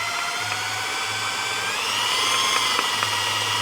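An electric drill whirs steadily and fairly loud during teardown work on an old GAZ-63 truck, with a low intermittent hum underneath and a few sharp clicks toward the end.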